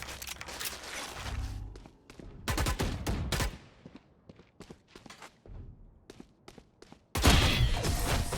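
Phantom rifle spraying in the Valorant video game, loud clusters of rapid shots separated by quieter gaps with scattered thuds, ending in a dense burst of fire.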